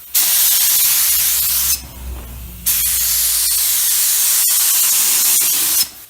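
Spray gun applying clear coat to car paint, two long steady hissing bursts broken by a short pause, then a final brief start, loud and close.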